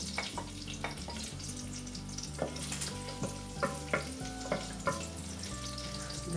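Garlic sizzling in ghee and a tablespoon of oil in a pan, a steady crackling fry broken by repeated scraping clicks of a spoon stirring, close and fairly quiet.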